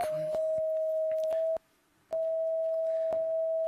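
A steady electronic beep tone from a color sensor sounding purple holds, breaks briefly into silence, then resumes, with faint clicks and rustle underneath.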